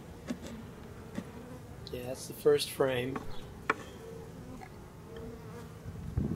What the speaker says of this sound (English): It's a lot of activity, especially around 4 o'clock, the bees really come in.